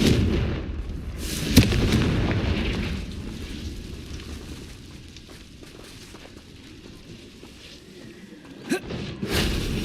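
A Confringo explosion spell cast in Hogwarts Legacy lands as a booming blast over a steady rumbling game soundscape, with a couple of sharper thuds later on.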